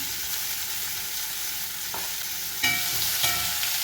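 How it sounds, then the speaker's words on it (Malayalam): Ginger, tomato and onion sautéing in a pan, a steady soft sizzle with brief stirring scrapes near the end and no voices. "നന്നായിട്ടൊന്ന് വഴറ്റിയെടുക്കാം."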